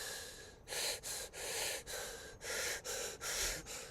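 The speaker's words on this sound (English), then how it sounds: "It's just this breathing on top of my audio." Rhythmic breathing caught on a handheld audio recorder during a ghost hunt, seven or eight breathy, airy inhales and exhales in a steady pulse, close and clear over a faint hiss, no talking.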